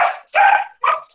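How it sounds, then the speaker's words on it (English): A dog barks three times in quick succession, close and sharp, with brief silences between the yaps. "You may hear more dogs barking as motorbikes go by."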